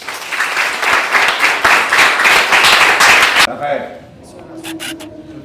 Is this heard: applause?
yes